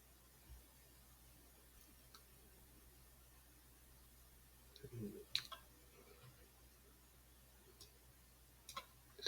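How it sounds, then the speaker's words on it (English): A few faint, sparse clicks of a computer mouse while drawing a starfish shape in Microsoft Word, set against a quiet background hiss with no talking. "Now we just click on this control."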